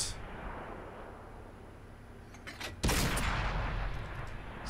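A Panther tank's main gun fires once in World of Tanks, a sudden loud boom breaking a low rumbling background and leaving a sustained roar afterward.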